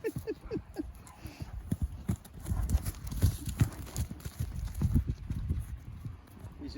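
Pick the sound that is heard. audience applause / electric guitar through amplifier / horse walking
horse walking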